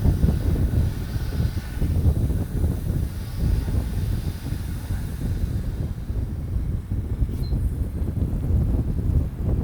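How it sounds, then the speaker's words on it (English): An old fuel transfer pump runs, feeding gas to an abandoned Pontiac; it makes a steady, unbroken mechanical drone with a rough, windy hiss that holds at an even level throughout. "This is just a crappy old transfer pump."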